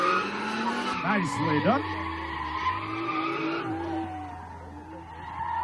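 Race car spinning out on track, tires squealing and skidding in sweeping, rising and falling whines over a steady engine drone, while a voice speaks briefly.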